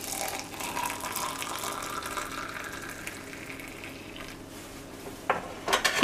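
Hot water pours steadily into a tumbler with a soft rushing trickle, ending with a few clinks of metal near the close.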